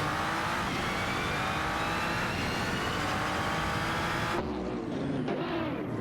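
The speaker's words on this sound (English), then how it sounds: "Kintax0815 in the Toyota GT86 GT3 and Lacroix 1980 in the Callaway Corvette C7 GT3 are neck and neck, battling for the 19th position" Race cars in a video game, a Toyota GT86 GT3 and a Callaway Corvette C7 GT3 among them, roar continuously with high engine whine and rising revs, loud and close, ending in an abrupt shift of engine tone.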